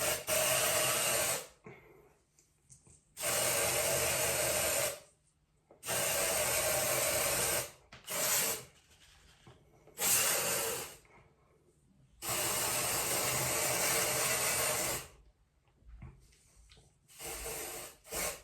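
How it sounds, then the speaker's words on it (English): Several long, hissing sprays of Got2B aerosol dry shampoo into hair, each lasting a couple of seconds with pauses between, close by, ending in shorter bursts. "let's spray this into my hair to give it a little bit of the texture"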